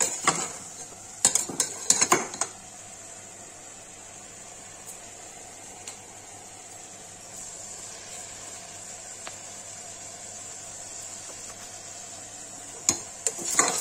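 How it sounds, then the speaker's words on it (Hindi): A spoon scrapes and clinks in a pan while red chili is stirred into kaju matar paneer, bursts of metallic clatter at the start and end around a long quiet stretch with a faint steady hum. "डालेंगे लाल मिर्च, इसको मिला देंगे, चला देंगे मतलब।"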